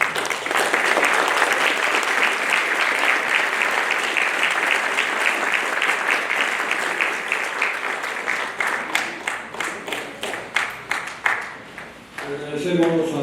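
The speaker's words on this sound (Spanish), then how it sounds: "Con orgullo y con satisfacción pido un aplauso muy grande al autor de esta obra" Sustained audience applause at a book presentation honoring the author, dense and even at first, thinning into distinct individual claps near the end before a voice begins speaking.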